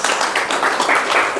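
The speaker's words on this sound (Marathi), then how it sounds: "जरा टाळ्यांचा आवाज थोडा जोरात" An audience at a share-market investors' workshop bursts into applause, a dense, loud wash of many hands clapping continuously for the whole moment.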